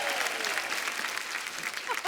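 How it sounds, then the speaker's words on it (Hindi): A studio audience on The Kapil Sharma Show, a comedy talk show, claps in a steady, even burst of applause. It sounds somewhat soft and lasts the whole moment. "एक बार कपिल के लिए तालियां।"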